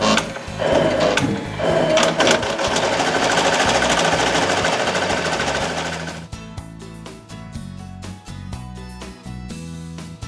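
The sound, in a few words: Bernina E 16 embroidery machine stitching a design on a cap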